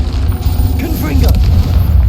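The Confringo blasting spell goes off in Hogwarts Legacy as a loud, deep, rumbling boom that holds heavy low-end roar for the whole two seconds, with a voice speaking faintly over it.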